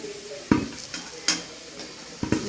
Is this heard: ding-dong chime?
no